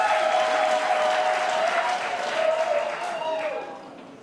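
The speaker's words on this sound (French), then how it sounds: "Applaudissons pour nous-mêmes." An audience at a formal anniversary ceremony for a swearing-in breaks into steady, full applause that holds for several seconds and then fades out toward the end.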